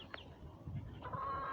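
Chickens with young cockerels cluck quietly at a farmyard, a few short faint calls rising near the end against a low background, with no talking.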